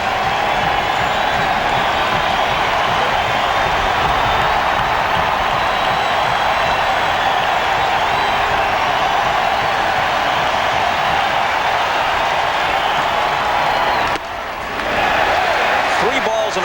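A Cleveland baseball stadium crowd at a 1997 World Series game against Florida, a loud, steady roar of cheering and applause that holds almost without pause, briefly dipping near the end, with a commentator talking over it.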